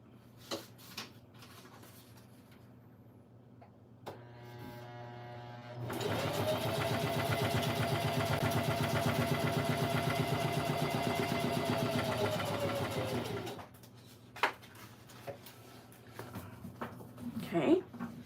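A sewing machine stitches across an art journal page in a steady, loud mechanical whir lasting about seven seconds, with a person talking quietly before and after it.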